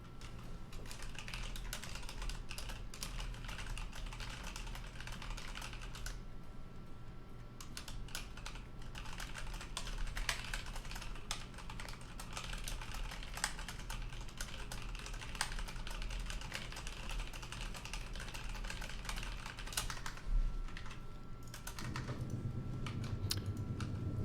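Continuous rapid typing on a computer keyboard clatters steadily for over twenty seconds, dense overlapping key clicks at a close, moderate level without pauses, over a faint background hum and with no speech.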